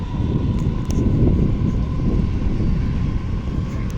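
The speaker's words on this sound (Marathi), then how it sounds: "हे बघा इकडून जात आहे लोकल" A low, heavy rumble rolls on steadily as a Mumbai local commuter train passes at some distance near Belapur CBD, Navi Mumbai, with a faint tone running through it.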